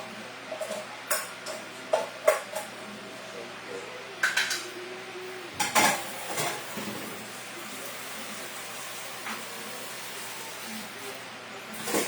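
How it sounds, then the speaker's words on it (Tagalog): Handling a kaldero rice pot for washing brings a series of close metallic clinks and clanks of pot and utensils, irregular at first then settling into quieter background, with occasional talk. "Kailangan hugasan ulit natin ang ating kaldero"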